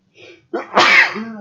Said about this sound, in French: éternuer, voilà, c'est fait